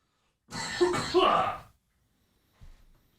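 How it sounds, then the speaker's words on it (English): A single harsh, loud cough burst close up, followed by a short pause and a faint, brief second sound. "I need to cough."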